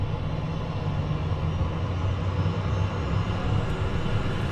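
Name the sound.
Phenom 300E jet engine starting up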